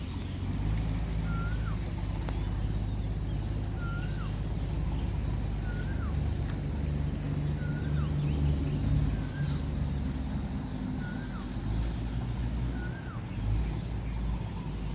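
A boat engine drones loudly and steadily throughout, a deep continuous rumble with faint chirps from birds drifting above it.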